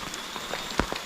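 Steady rain falling in a Sundanese countryside cemetery, with hiss of drops on wet red earth, moss and bamboo, plus a few louder close drips standing out.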